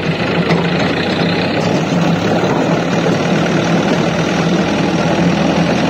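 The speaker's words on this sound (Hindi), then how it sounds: "ट्रैक्टर स्टार्ट हो गया, भाई ने गियर में लगा दिए" A tractor engine runs in gear on a farm in a Sindh village during wheat farming, giving a loud, steady low rumble with constant vibration, close by and without a break.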